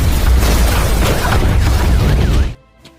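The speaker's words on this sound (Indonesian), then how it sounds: "gedung itu pun meledak" A building blows up in a film scene, a loud sustained roaring blast with rumbling low end that cuts off abruptly into near silence.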